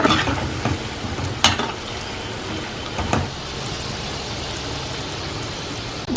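Sago pearls simmer in boiling milk in a pot, making a soft continuous bubbling sizzle with a few sharp stirring scrapes of a spoon against the pan, close and steady with no voices.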